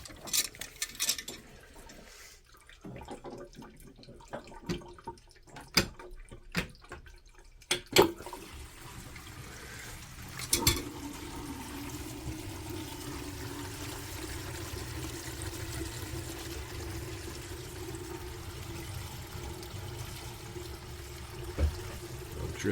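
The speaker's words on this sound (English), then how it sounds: "Drips on the ground." Water trickles and drips onto the ground from a newly installed wall-hung sink and drain, starting with scattered sharp drips and knocks, then settling into a steady low running-water flow, indoors and moderately quiet.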